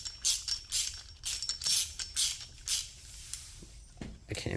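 A hand ratchet fitted with a long chain of stacked extensions clicks through a few quick, close bursts of metallic ratcheting, separated by short pauses, with no voice over it.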